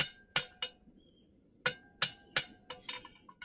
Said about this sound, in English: then we hammer down our taper